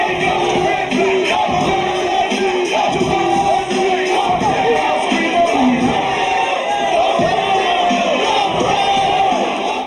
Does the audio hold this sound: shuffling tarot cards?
no